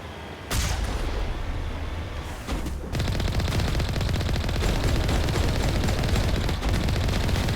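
Heavy cannon fire in the video game Mass Effect 1 Legendary Edition, a loud sustained barrage of rapid blasts that starts abruptly after a brief quieter moment, pauses briefly, then continues densely throughout.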